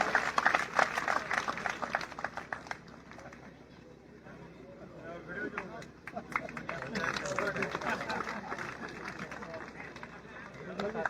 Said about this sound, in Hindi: तालियां बजनी चाहिए, तालियों में किसी प्रकार की कंजूसी नहीं होनी चाहिए। शानदार जोरदार तालियों के साथ